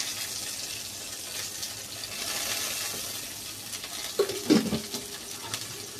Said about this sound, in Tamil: வெந்தயம் போட்டுக்கலாம் வெந்தயத்தை ரொம்ப பொறி விட்றாதீங்க